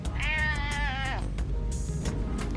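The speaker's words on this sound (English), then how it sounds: "Are you the most beautiful kitten ever?" A kitten gives one drawn-out, wavering meow, close and fairly loud, with faint clicks and light background noise around it.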